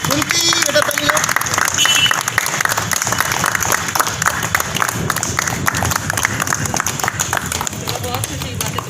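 Children clapping together in a group, a dense, continuous patter of applause that holds at steady loudness throughout, with adult voices talking over it.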